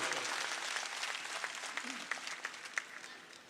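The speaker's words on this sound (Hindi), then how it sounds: "जोरदार ताली से आशुतोष का स्वागत करो।" Applause from a crowd at an election nomination rally greets a by-election candidate, a steady patter of many hands clapping, moderately distant and sustained, with scattered sharper claps toward the end.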